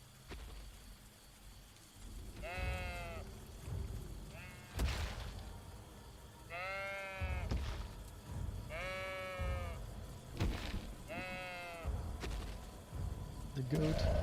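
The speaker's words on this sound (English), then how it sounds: "And you hear the bleating even louder now." Goats bleating repeatedly in a fantasy setting, several wavering cries spaced a couple of seconds apart over low rumbling ambience and what sounds like rain, fairly close and distinct.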